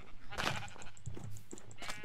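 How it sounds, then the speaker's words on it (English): Sheep in the video game Minecraft give several short bleats in quick succession, close and clear over faint background noise. "I'll punch some more sheep to make you a bed."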